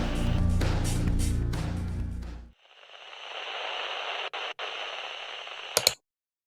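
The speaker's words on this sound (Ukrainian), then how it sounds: "Сигнал стає все сильнішим." In a Lego animation set at the edge of the Arctic, a radio receiver hisses with steady static after a burst of louder noise, broken by two brief dropouts and a final crackle before cutting to silence.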